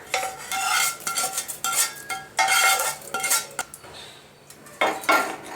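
A spoon stirs and scrapes idli batter mixed with tempering in a metal bowl, giving repeated close clinks and scraping strokes in an uneven rhythm, with no voices.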